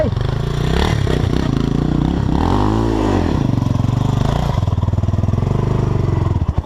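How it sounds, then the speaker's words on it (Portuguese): A motorcycle engine kick-started, catching and running with a loud, close, throbbing idle, rising in a brief rev and settling back into a rapid steady putter. "eu não liguei essa moto no pedal. Ele ligou."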